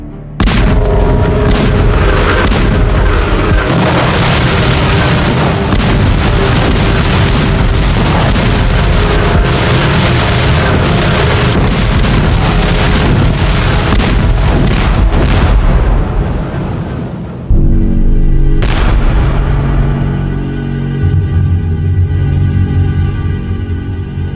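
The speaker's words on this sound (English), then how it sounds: "Over 4 months, Prussian artillery bombarded Paris." Prussian artillery bombards Paris in a dense barrage of heavy booms and rumbling blasts, loud and continuous, thinning into a few distant thuds near the end.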